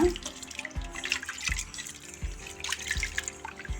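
Bamboo shoots are squeezed and rinsed by hand in a vessel of water, several rinses in a row. Steady watery sloshing and trickling runs under regular soft thuds about every three-quarters of a second.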